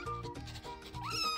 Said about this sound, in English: Look at these baby kitties.